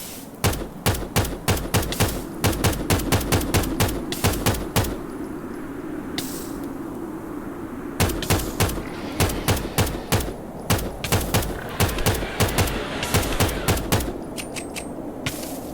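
Rapid bursts of gunfire in the Minecraft Prehistoric World video game, with sharp repeated shots in quick volleys. The volleys stop for a short pause and then resume, fairly loud and close.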